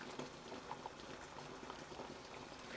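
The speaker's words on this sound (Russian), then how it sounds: "Буду варить 10 минут вместе с чесноком." Homemade tomato ketchup with garlic simmering in a pot, a faint, steady bubbling and popping heard close up without any voices.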